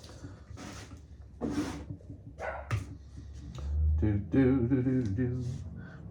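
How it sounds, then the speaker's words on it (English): A dog barks at people walking by, a few scattered barks and yips heard behind close talking. "barking at everybody who walks by"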